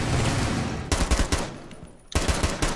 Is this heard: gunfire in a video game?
yes